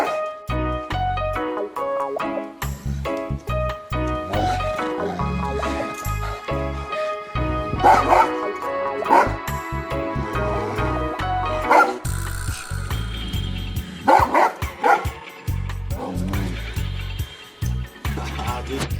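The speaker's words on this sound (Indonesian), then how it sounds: "Saat bertemu dengan manusia, anjing ini selalu menggonggong." A large dog barks repeatedly and loudly in short bursts, with some whimpers and yips mixed in, over dense background music and noise throughout.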